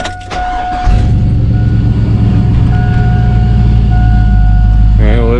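A 2002 Cadillac Escalade engine cranks and catches after its GM hydrobooster replacement, then idles in a loud, steady low drone with a faint high tone above it, close by, with a voice speaking briefly near the end.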